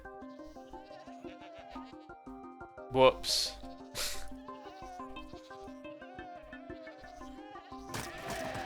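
Goat bleats from Minecraft 1.19 gameplay come as a few short calls around the middle and end, under steady game music, with someone talking briefly.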